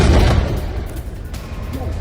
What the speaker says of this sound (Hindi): टेंट कैंप पर टैंक से भयंकर गोलाबारी की जा रही है।